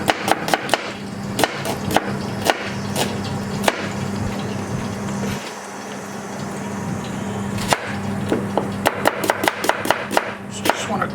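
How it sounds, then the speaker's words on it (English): Knife slicing onions thinly on a chopping board while lamb shatkora is prepared, giving close, sharp chops in irregular quick runs over a steady low kitchen hum. "So the onions will melt, but I'm just cutting them quite thinly."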